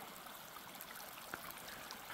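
Mountain stream in Montana flowing down toward a creek, a soft, steady trickling and gurgling rush heard alone at a distance, quiet but continuous.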